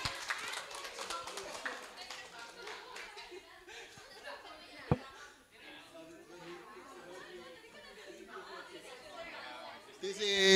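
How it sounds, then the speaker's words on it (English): A seminar audience applauds a presentation group with a brief burst of scattered claps at the start, then murmuring chatter and light laughter carry on, and a louder stir rises at the end. "give applause for Nick and also group two"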